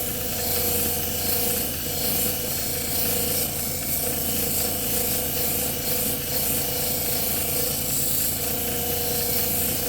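A rock pressed against a spinning grit polishing wheel, a steady abrasive grinding and rasping over a constant motor whir, continuous and close with no pauses.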